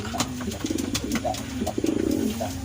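Rain-soaked racing pigeons cooing at a loft in Candelaria, Quezon, a close, steady run of low throaty coos with faint background noise and no talk.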